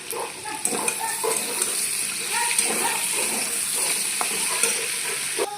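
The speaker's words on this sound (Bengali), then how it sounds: "আলুর সাথে পেঁয়াজটা এখন হালকা ভাজা হয়ে গেছে" Chopped onion and whole garlic cloves with a bay leaf fry alongside potatoes in a pan for a potato and soybean curry. A moderate crackling sizzle runs throughout, broken by repeated clinks and scrapes of stirring up close.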